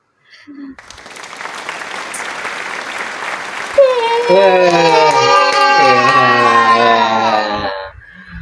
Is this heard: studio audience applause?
yes